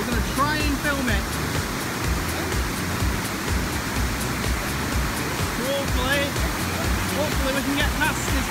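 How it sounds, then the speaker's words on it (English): A loud waterfall roars inside a river tunnel, a dense and continuous rushing wash that fills the space, with faint voices breaking through now and then. "Hopefully we can get past this waterfall."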